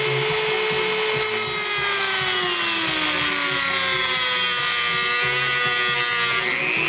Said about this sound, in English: This thing is rusted on, I have to cut it off.